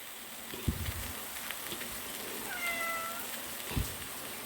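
A cat meows once, fairly softly, while small mackerel grill for it, over a steady sizzling hiss with a couple of low knocks before and after the meow.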